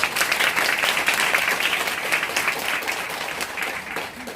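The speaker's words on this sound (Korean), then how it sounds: "큰 박수 부탁드릴게요." Audience applause at a business seminar, a loud burst of many hands clapping from the start that slowly fades toward the end, with no talk over it.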